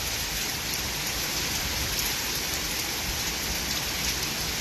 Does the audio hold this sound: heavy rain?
yes